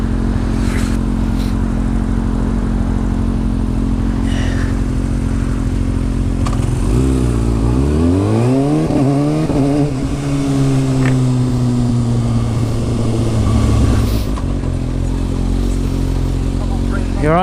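Kawasaki Ninja 636 sport bike with an Akrapovic exhaust, steady engine drone while riding, with one clear rising then falling sweep of revs as it accelerates through gears; loud and close throughout, with wind noise and occasional voices.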